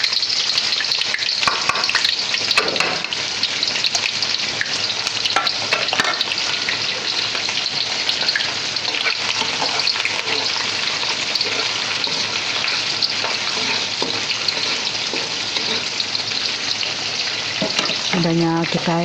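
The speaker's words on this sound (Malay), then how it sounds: "Minyak udah panas, kita masuk ke bawang." Onion dropped into hot oil, a loud, dense crackling sizzle that roars steadily throughout, with stirring scrapes and a brief voice near the end.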